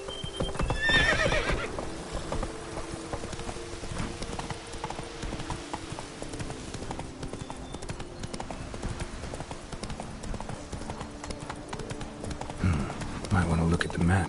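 Roach, the horse in The Witcher 3: Wild Hunt (Blood and Wine), trots with steady hoof clip-clops and lets out a neigh near the start. Game voices talk over the continuous hoofbeats.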